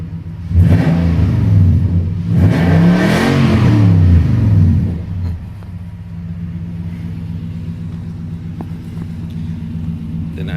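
Nissan Titan truck with a Flowmaster exhaust revs twice in quick succession with a deep, loud roar, then settles back to a steady low rumbling idle.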